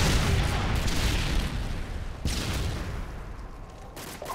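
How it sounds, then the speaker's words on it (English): A Predator missile strike explodes in a military first-person shooter, a dense rumbling blast that rolls on under continuous gunfire and booms, with a sharper crack near the middle. "Predator missile inbound."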